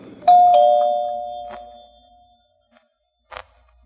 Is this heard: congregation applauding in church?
no